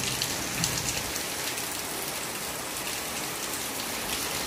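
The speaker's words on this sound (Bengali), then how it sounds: "বিশাল বৃষ্টি, বিশাল।" Heavy rain pours steadily outside, a dense, even hiss of drops on surfaces with no pause, loud and continuous throughout.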